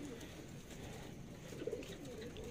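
Plosur racing pigeons in a large loft of about thirty pens holding hundreds of birds, a low steady cooing murmur with soft rustling throughout, one brief louder coo near the end.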